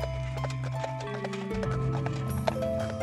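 Horse hooves clip-clopping as horses pull ancient chariots, a steady run of hoof taps over a continuous background of music, moderately loud and even in rhythm.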